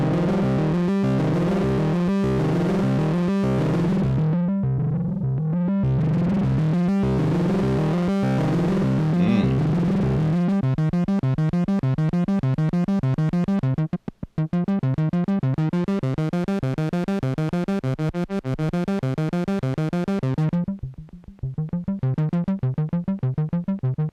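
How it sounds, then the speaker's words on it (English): A cheap distortion pedal on a synthesizer bass produces a loud, gritty, harmonically dense drone that shifts from chopped rhythmic pulses to a fast repeating arpeggiated pattern, with brief dropouts near the end. "Start blending in the type of distortion."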